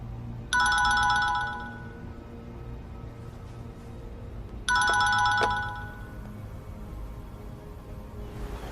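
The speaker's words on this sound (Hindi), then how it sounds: "मैं उसे फोन करके पूछती हूँ क्या चल रहा है।" A phone ringback tone on an outgoing call rings out in two clear, bright electronic bursts a few seconds apart, with a quiet background hum between them and no talking.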